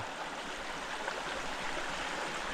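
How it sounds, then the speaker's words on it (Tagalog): Strong flow of spring water rushing steadily, a dense close hiss and gurgle like a stream or small waterfall, continuous and alone without speech. "Lakas ng tubig."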